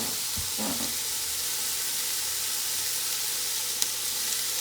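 Diced bell pepper and thinly sliced garlic sizzle in a pot, a steady bright hiss with a brief clatter of stirring near the start and a faint tap toward the end.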